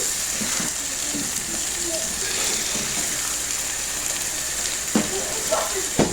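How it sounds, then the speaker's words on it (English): Steady bubbling and hissing of salted water boiling in a pot for pasta, a continuous rolling wash of noise with a few clinks near the end. "So our water is boiling."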